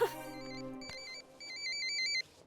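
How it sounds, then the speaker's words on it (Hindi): A mobile phone ringtone plays in a Hindi-dubbed South Indian film scene: a bright, repeating electronic melody that is moderately loud and heard without talk. "इसका फोन आ गया।"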